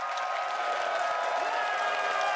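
Esports arena crowd at a League of Legends playoff semifinal, a dense continuous wash of cheering and applause holding steady and loud throughout.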